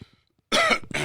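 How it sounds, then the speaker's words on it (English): A dry-throated woman gives a couple of sharp, close coughs in quick succession, breathy and harsh, following a brief quiet pause. "and I've been coughing."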